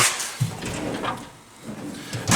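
A wide drawer of a TORIN NTBR4007-X-2 tool cart slides open or closed, giving a close, continuous rolling scrape with soft knocks at the start and the end.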